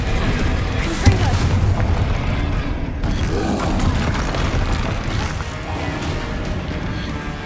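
Confringo blasting spells go off in the Hogwarts Legacy video game as a series of loud booms and crashing impacts over continuous combat noise, with a sharp hit near the start.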